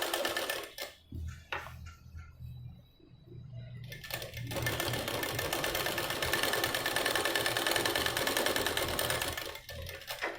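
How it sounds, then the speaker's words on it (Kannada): An electric sewing machine stitching a boat-neck blouse starts and stops in short bursts, then runs in a long continuous whirring, rattling stitch that fills most of the clip. "ನೀಟಾಗಿ ನಿಧಾನಕ್ಕೆ ಸ್ಟಿಚ್ ಹಾಕೊಂಬನ್ನಿ."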